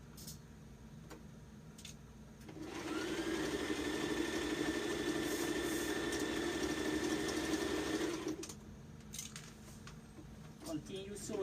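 A sewing machine stitching a dress runs in one continuous whirring burst of about six seconds, steady and fairly close, with quieter room sounds before and after.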